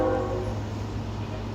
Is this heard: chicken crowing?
no